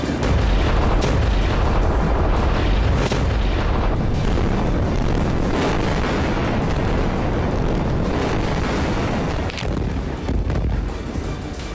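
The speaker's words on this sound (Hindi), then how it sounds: "जहां पूर्वी तुल्कराम में नूर शम्स कैंप के पास जबरदस्त धमाका हुआ है।" A continuous roaring blast rumble with rolling booms, loud and dense throughout, like a huge explosion near Nur Shams camp in eastern Tulkarm, West Bank, followed by sustained thunderous reverberation.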